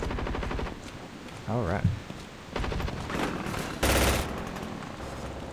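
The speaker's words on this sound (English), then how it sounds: "The scatling gun takes forever to shoot." Automatic scatling gun fire from a zombie video game comes in loud, rapid bursts, with a voice talking over and between the shots.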